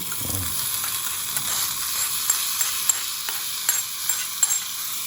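Ingredients for a paneer mutter masala curry sautéing in oil in a pan, continuous hiss of sizzling with faint scattered ticks and taps of stirring, close and steady, no talk.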